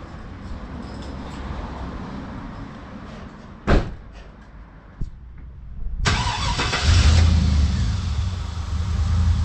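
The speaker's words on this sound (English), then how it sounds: "Alright guys, truck turned on pretty good." A 2000 Chevy Silverado pickup cranks and catches after a couple of sharp clicks and thumps, then settles into a steady, fairly close idle with no talking.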